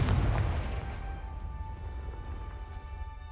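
A Confringo blasting spell explodes in Hogwarts Legacy: one heavy booming blast at the start that fades into a long ringing, humming tail, with no talk over it.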